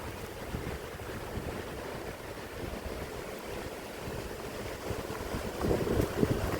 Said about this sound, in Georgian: მაგრამ ისეთი მაგარი ქარია